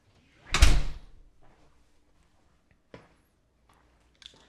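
A front door swings shut with one loud, close thud of wood in its frame, followed by faint bumps and a soft tap a few seconds later in an otherwise quiet room.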